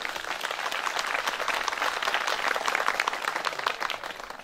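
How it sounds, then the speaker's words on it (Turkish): Audience at a Turkish folk minstrel commemoration festival applauding for the mayor, dense sustained clapping from a large crowd, loud and continuous for the whole stretch. "bir alkış istiyorum"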